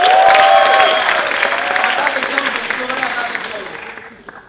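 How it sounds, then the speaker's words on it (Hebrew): Audience at a circus show applauds a volunteer called up on stage, a loud burst of clapping with some cheering and whistling that gradually fades out. "חבר'ה, מציאות כפיים לירדן!"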